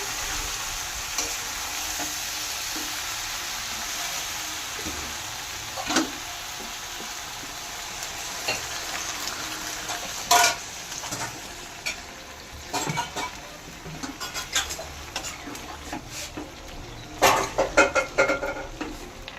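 Sautéed jackfruit in a pan for a prawn curry, frying with a steady low sizzle while a spatula stirs and scrapes, with sharp metallic knocks and clatters growing busier toward the end; no voices.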